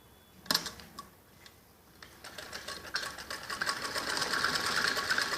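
A sewing machine runs long basting stitches on a child's skirt with a net layer, starting with a few sharp clicks, then building into a fast, steady whirring that grows louder toward the end.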